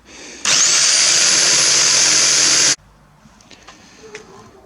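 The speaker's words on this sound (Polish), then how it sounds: "Wyżynarką przytniemy poszczególne elementy." A jigsaw cuts cardboard pieces for a cardboard gift horse. Its loud, close, high whine starts abruptly, runs for about two seconds, then cuts off, leaving quiet handling noises.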